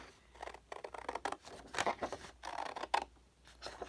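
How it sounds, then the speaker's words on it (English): Scissors snip through a paper journaling card for a craft project, a close run of quick crisp cuts with short pauses, loudest near the middle, alone without talk. "I think I want this one here. So I'm going to cut it out."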